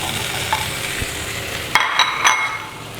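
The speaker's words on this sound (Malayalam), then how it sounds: "ഇനി നമുക്ക് ഇതിനകത്തോട്ട് വെണ്ടയ്ക്ക ഇട്ട് കൊടുക്കാം" Okra dropped into a pan of sizzling spiced masala, a steady frying hiss with a few sharp stirring scrapes and clinks near the end.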